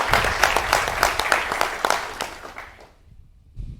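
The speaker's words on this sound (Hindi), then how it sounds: "तालियां आप लोगों के लिए भी हो जाए।" Studio audience applause at a televised news debate, dense clapping for about two and a half seconds that then fades out, followed by a brief faint return near the end.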